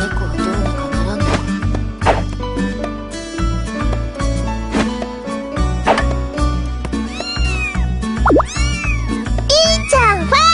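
In the visual novel game Little Busters, several cats meow in short rising and falling cries, clustered toward the end over a bouncy game music track.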